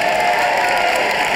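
An audience at a children's awards ceremony applauds and cheers, a dense, continuous wash of clapping and crowd noise with no clear individual voices.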